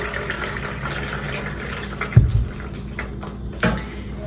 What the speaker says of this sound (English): basically here I'm just running the water through